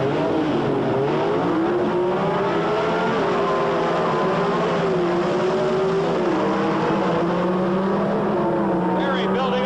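Engines of a Chevrolet Camaro and a six-cylinder Chevy II roar through a drag race, a steady loud drone with shifting pitch as the cars pull away, while a commentator talks over it.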